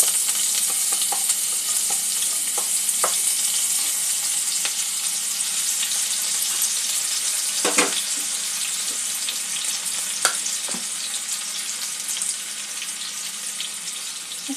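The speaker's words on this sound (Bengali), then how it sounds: "আদা রসুনটা আমি তেলের মধ্যে দিয়ে দেবো। চিকেন ভাজার পরে যে তেলটা ছিল তার মধ্যেই দিয়ে দেবো।" Chopped ginger and garlic fry in leftover oil from fried chicken, giving a steady close sizzle with occasional stirring clicks and scrapes, no talking.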